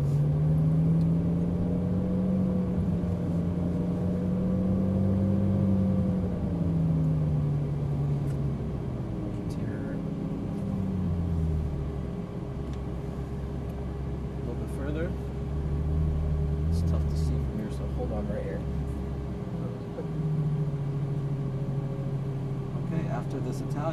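A Ferrari 458 Italia at Exotic Racing Las Vegas pulls away in first gear from the pit area, its engine rising and falling as a low rumbling drone beneath an instructor talking throughout.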